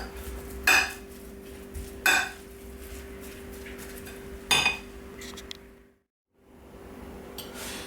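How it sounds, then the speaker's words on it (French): A fork scrapes and clinks against a bowl while mixing ground meat with parsley, pepper and salt, giving a few sharp taps spaced seconds apart over a quiet background. "Et là je vais mélanger pour incorporer donc mon persil, mon poivre, mon sel à la viande"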